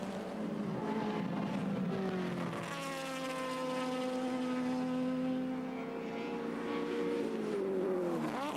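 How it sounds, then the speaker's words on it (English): Touring cars race at Surfers Paradise, engines wailing as they pass in a close, roaring pack, the pitch climbing and dropping through gear changes in one continuous mechanical howl. "So the two STP Roadways cars being attacked, and Moffat in second place, whittling Brock"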